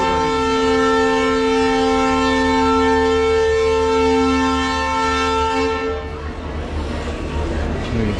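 A train horn honks in one long sustained blast at a railway station in India on the way to Agra, loud and close, cutting off after about six seconds into station noise.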